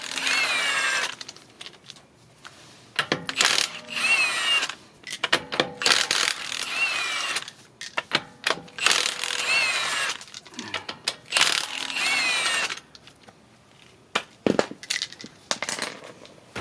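Impact or ratchet tool with a number 19 socket taking the wheel off a 2011 Honda Civic, giving close bursts of whirring and rattling with metallic clanks and gaps of quiet between them.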